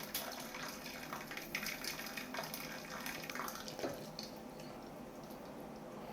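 Hot water trickles and splashes steadily from a cup into a bathroom sink's overflow hole, faint and close, with no voices.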